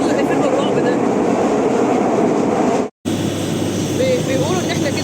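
A Cairo metro train rumbles and rattles steadily through an underground station, loud and continuous, with a brief cut near the middle, then the ride noise resumes with a faint voice in the background.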